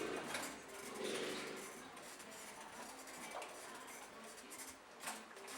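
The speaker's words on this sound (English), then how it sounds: "Now I'll stir all those herbs and spices into there." Spoon stirring herbs and spices into spaghetti sauce in a pot, soft irregular scraping and light clinks of utensil against metal, quiet and close.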